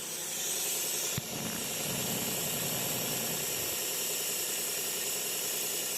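A car radiator cooling fan runs with a steady, loud whooshing roar and broadband hiss throughout, close by, with a brief click near the start.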